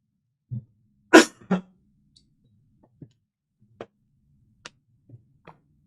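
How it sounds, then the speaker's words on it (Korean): A sudden loud cough bursts out close by, a sharp pair of hacks followed by faint scattered ticks and small noises in an otherwise quiet room. "갑자기 기침이 나와서 순간 당황해서 고개를 돌렸네"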